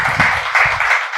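An audience at a Gujarati literary gathering claps for the speaker in a brief, dense burst of applause that carries loudly and then cuts off.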